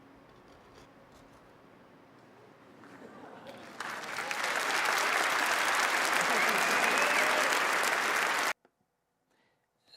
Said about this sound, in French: Cette fois, on a une réaction différente du public, avec des applaudissements.